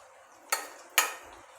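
A metal spoon stirs cooked urad dal in a pot, making two short, distinct scraping clinks about half a second apart against a quiet background with no voices.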